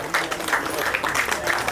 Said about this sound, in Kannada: ಎಲ್ಲರೂ ಜೋರಾದ ಚಪ್ಪಾಳೆ.